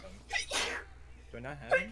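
A single sharp sneeze bursts out close to the microphone, set between bits of casual speech before and after.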